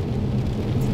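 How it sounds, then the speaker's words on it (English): Rain falls in a brief, steady hiss of drops with a soft low rumble beneath, even and unbroken throughout. "So the rain is here."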